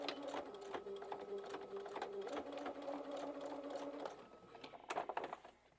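A sewing machine stitches quilt binding strips with a close, steady mechanical whir and rattle for about four seconds, then stops, followed by a few soft handling knocks.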